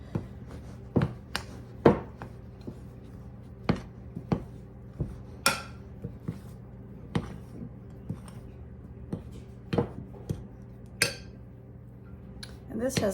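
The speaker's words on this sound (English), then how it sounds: "only want to mix it enough until the dry ingredients are all mixed" A spoon stirs buttermilk biscuit dough in a mixing bowl with a steady series of sharp clinks and scrapes against the bowl, roughly one every second, with occasional speech in the background.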